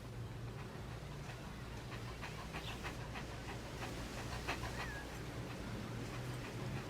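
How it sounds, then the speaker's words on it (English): A dog pants steadily and rapidly, close by, over a constant low rumbling hum. "It's a dog."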